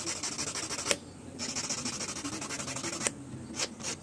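Sandpaper rubbed back and forth over the contact terminal of a Toyota Vios power mirror, a steady close scratchy rasp with short pauses between strokes.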